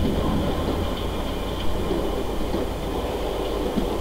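Steady interior rumble aboard the Cévenol passenger train running on single track between Génolhac and Villefort, with a continuous low drone and faint wheel knocks throughout, no voices.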